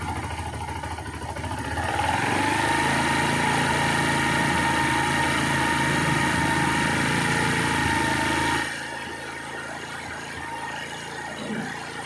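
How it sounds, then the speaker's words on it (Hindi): A Bajaj Platina 110 motorcycle engine idles, then its revs climb to a steady higher drone that holds for several seconds before dropping back to a lower idle. "ये बाइक का रेस थोड़ा थोड़ा बढ़ रहा है"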